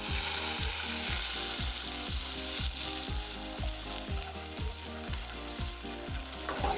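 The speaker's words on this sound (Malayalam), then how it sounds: "അതിലേക്ക് നമുക്ക് വൈറ്റ് വൈൻ ഒഴിച്ച് റെഡ്യൂസ് ചെയ്യാം." White wine poured into a hot pan with sautéed herbs and garlic, sizzling and bubbling loudly as it reduces, with steady frying crackle and a repeating stirring rhythm throughout.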